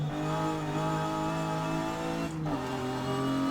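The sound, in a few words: car accelerating at full throttle in video game Forza Horizon 5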